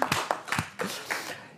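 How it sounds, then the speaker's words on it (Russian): Studio audience on a Gomel evening television show clapping in support, irregular close hand claps in short bursts with some scattered, quieter claps between. "давайте поддержим это начинание бурными аплодисментами"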